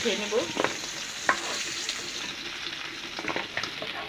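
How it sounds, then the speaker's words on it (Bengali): Fish bones frying in a pan, a close, steady sizzle with repeated stirring scrapes and a few knocks of the utensil against the pan. "কাটাগুলি বেজে নেব বেজে নিচ্ছি এগুলো"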